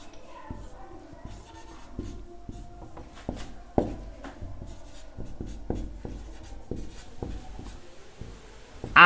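Pen writing out a maths solution on paper, a run of scratchy strokes and taps in an irregular rhythm, close and clear, with soft speech faintly underneath.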